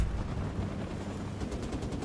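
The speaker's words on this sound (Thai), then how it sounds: "เสียงปืนกล" Dense, continuous bursts of machine gun fire with low rumbling booms, loud and sustained throughout, in Call of Duty: Modern Warfare Remastered.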